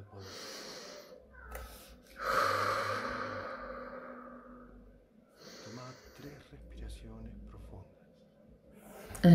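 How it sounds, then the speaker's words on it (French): Slow, deep breaths taken during a guided meditation: long, audible inhales and exhales follow one another over several seconds, close and fairly soft, with no talking. "Faites 3 respirations profondes."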